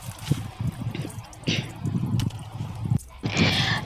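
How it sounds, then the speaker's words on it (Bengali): Boiled chow mein noodles are rinsed under a cold running tap, with close splashing and trickling water in uneven bursts and occasional louder gushes. "চাউমিনটা আমি কলে নিয়ে গিয়ে ভালো করে ধুয়ে নিলাম ঠান্ডা জলে"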